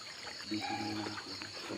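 River water flowing during a crossing on a forest hike, a steady soft trickling stream at moderate distance, continuous and unbroken, with no voices over it.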